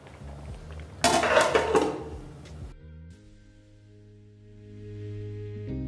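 A lid is set back onto a cooking pot of tomatoes with a short, close metallic clatter lasting about a second and a half. A quiet, steady kitchen hum follows.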